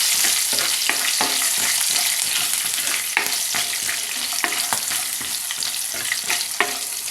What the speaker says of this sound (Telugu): ఈ పచ్చిమిర్చి ముక్కలు ఆయిల్లో చక్కగా ఫ్రై అవ్వాలి